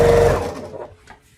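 A home sewing machine stitching a quilt seam makes a loud motor hum with rapid needle chatter for about half a second, then slows and fades into quiet clicks.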